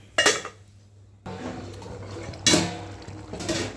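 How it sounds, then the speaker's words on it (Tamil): Metal clanks sharply a few times as a lid is set onto a cooking pot of thorny brinjal curry, with quiet clatter in between. "இப்போ மூடி வச்சுருவோம்."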